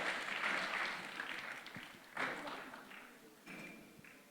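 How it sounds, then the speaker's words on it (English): Applause from an audience at an SME growth forum rises in a few quiet, distant waves of clapping, each swelling and then fading over a few seconds. "Ladies and gentlemen, a round of applause."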